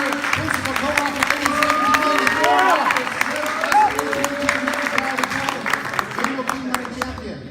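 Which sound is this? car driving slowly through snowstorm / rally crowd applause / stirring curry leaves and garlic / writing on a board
rally crowd applause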